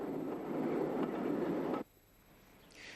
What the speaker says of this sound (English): Railcars arrive at the GNR's Great Victoria Street station in Belfast